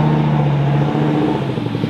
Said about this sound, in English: I'm going to shut the guy down because it's so loud with that aftermarket exhaust